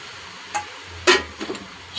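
A spoon knocks and scrapes in a pot while sweet paneer pulao with saffron, cashews, raisins and milk is stirred, a few sparse clacks with quiet gaps between, close by.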